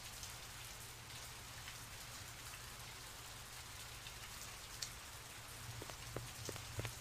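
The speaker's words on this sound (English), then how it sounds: "It's raining in Blade Runner." Rain falls steadily in the Blade Runner video game, a dense continuous hiss of drops on surfaces with a low hum beneath and a few louder drips near the end, no talking.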